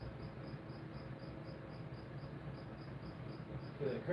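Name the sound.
cricket chirping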